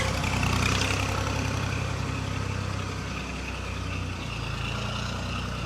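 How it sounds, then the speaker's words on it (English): A tractor engine pulling a boat drones steadily and heavily close by at Rhosneigr, Wales, a constant low rumble with no break. "One of the tractors pulling a boat."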